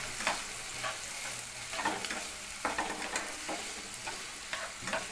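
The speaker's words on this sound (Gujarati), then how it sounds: "આ કાંદો 2 નંગ છે એને હું તેલમાં સાતળી લઈશ" Chopped onion frying in hot oil in a pan for cashew curry, a continuous close hiss and crackle with repeated soft scraping strokes as the pieces are stirred.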